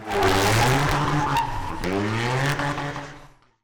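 A Toyota Yaris hydrogen race car's experimental engine roars loudly with a falling pitch as it passes close, tires screeching through a skid before the noise drops away at the end.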